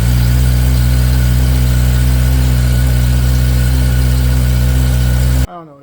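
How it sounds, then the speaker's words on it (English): A Kawasaki Ninja ZX10R 2026 with its exhaust flapper deleted idles steadily at operating temperature, a loud, close, continuous engine drone that cuts off abruptly near the end. "This is what the bike is going to sound like once it reaches optimal temp."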